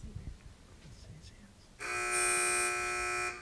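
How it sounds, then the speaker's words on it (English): A quiz-match answer buzzer sounds abruptly partway through, a loud, harsh, sustained electronic tone holding steady for over a second after quiet murmuring and faint voices. "Teams, wait for the buzzer if you'd like to answer."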